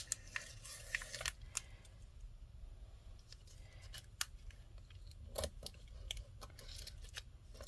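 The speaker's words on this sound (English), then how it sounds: "I'm going to trim this off because we don't need it" Scissors trim excess card stock and paper from a handmade coffee shaker card: a run of crisp snips close by, in clusters with short pauses, in a quiet room.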